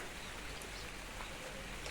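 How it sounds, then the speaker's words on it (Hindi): Steady outdoor rain falling in a hill village, a dense even hiss of drops that holds at the same faint level throughout with no voices. "फिलहाल तो अभी बारिश लगी है"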